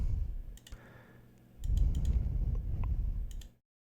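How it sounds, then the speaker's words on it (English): Scattered close keyboard clicks from typing on a computer keyboard, a few quick taps over a low rumbling background that swells midway, then cuts to silence, no talk. "we'll type process name"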